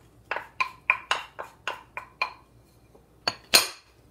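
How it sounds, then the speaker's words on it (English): Spoon clinking against a bowl while banana bread batter with beaten egg and butter is stirred, a series of about eight sharp knocks in steady rhythm followed by two louder clinks, close and alone. "Just kind of give it a stir."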